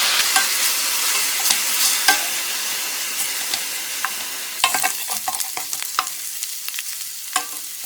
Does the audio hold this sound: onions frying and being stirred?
yes